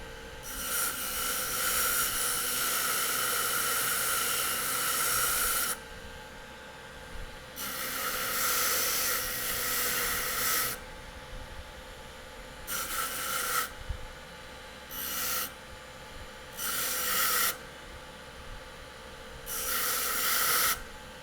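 A JOOLTOOL rotary tool with a mint green abrasive polishes a metal piece in repeated bursts of harsh, hissing rasp, each lasting a few seconds, separated by short quiet gaps.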